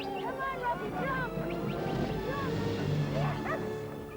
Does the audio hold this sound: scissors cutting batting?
no